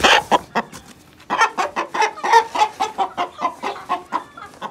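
A freshly caught Aseel rooster clucks in a rapid, rhythmic series of sharp, close calls, loud and uninterrupted by voices.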